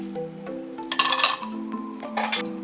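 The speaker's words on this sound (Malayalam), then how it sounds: "നമുക്കിനി ഇതിലേക്ക് 2-3 ഐസ് ക്യൂബ്സ് ഇട്ട് കൊടുക്കാം." Two or three ice cubes clink into a glass readied for a beetroot milkshake, giving bright separate knocks and rattles over about two seconds, loud and close, with no talk.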